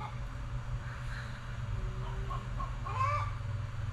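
A chicken clucks faintly in the background amid a steady low hum and room noise, with a brief rising call near the end.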